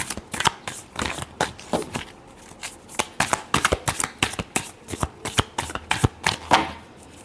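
Tarot cards being shuffled by hand, a run of crisp riffling bursts and sharp flicks in an uneven rapid rhythm, close and clear with no talking.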